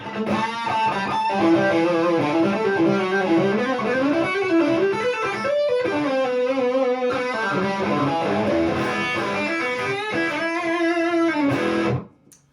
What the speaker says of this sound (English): this is the bridge pickup on the Distortion channel.